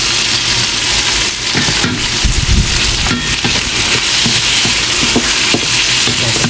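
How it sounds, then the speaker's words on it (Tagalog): Ginger and onion sautéing in a pan for arroz caldo, a loud continuous sizzle and crackle close by, with occasional scraping stir sounds and no talk. "So gigisa lang natin yan."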